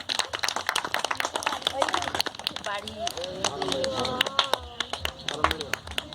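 At a Christmas celebration in Bankra, West Bengal, the audience claps for a prize winner with scattered, uneven hand claps running through several seconds under people talking.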